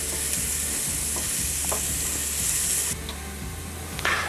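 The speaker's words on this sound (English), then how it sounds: "add 1 quite finely chopped onion. We're just going to fry those up until they start going translucent." Finely chopped onion fries in a pan for marinara sauce, a loud continuous hiss of sizzling oil with a low hum beneath and occasional stirring clicks, easing slightly near the end.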